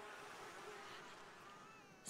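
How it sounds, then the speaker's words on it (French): Bees buzz in The Sims 4 in a continuous, even, fairly close drone with slight wavering pitch, faint overall and without any talk. "Voilà, les abeilles, ça faisait longtemps."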